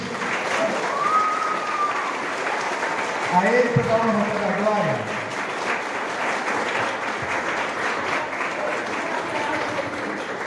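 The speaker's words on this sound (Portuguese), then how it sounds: "Uma salva de palmas para o Senhor Jesus" Sustained crowd applause fills the whole stretch, steady and dense, while someone speaks over it during a Baptist church service.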